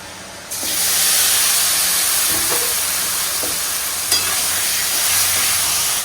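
Chicken dropped into a pan with lightly fried onions bursts into a loud, steady sizzle that holds for several seconds, with faint spatters and utensil clicks, close and without talk.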